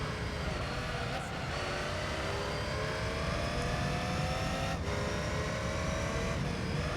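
A green convertible race car in Gran Turismo 3 drones steadily on track, its engine note rising and shifting with throttle through several gear changes, continuous and fairly loud with no talk.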